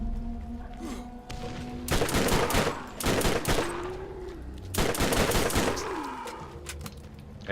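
Short submachine gun bursts in a video game, three loud rapid-fire volleys separated by quieter stretches, with faint ambient hum and tonal game sounds between them.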